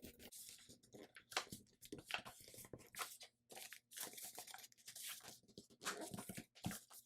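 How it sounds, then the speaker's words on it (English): Paper crinkles and creases in close, quiet bursts as the wing of a paper airplane is folded, with repeated rustling strokes and short pauses between them, and no voices. "Now you just fold the wing like so."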